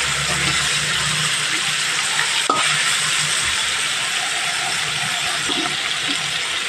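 Prawns frying in a pan while being stirred, giving a steady broadband sizzle throughout with a single sharp scrape or clink of the utensil partway in, close by and fairly loud, with no talking.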